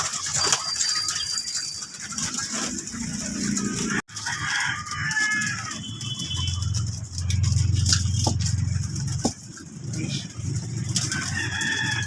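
Several hungry chickens, unfed for two days, cluck and a rooster crows nearby amid a busy, noisy farmyard background, with a loud clatter partway through.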